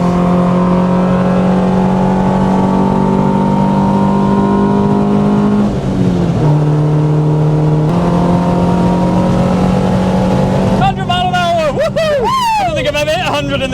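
A VTEC-swapped Honda Civic lapping the Nurburgring, its engine droning loudly and continuously inside the cabin, pitch holding high then dipping on a shift before climbing again, with a voice talking over it near the end.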